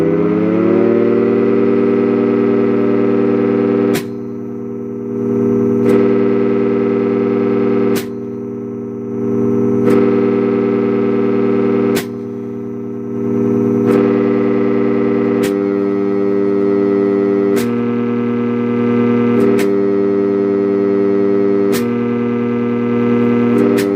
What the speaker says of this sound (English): we'll put 10 Hz through the siren again, and we'll just test both signals with the siren holding at 10 Hz